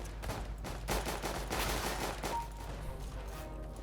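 Gunfire in CS:GO: a quick run of fairly quiet shots in close succession, heard at a distance under steady game background noise.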